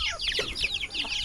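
Backyard chickens cluck in short, busy bursts near the egg-laying spot, several birds overlapping in a brief, close, moderately loud squabble.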